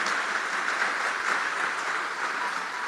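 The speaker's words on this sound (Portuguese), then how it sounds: "Vamos aplaudir direito então." A church congregation claps together during a family worship service, producing a continuous, even wash of applause with no voices on top.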